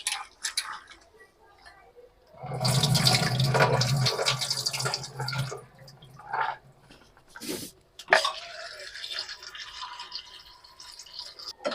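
Small dried kolim shrimp are rinsed in water, with a gush of sloshing and pouring in the middle and smaller splashes and drips before and after, plus a brief voice now and then.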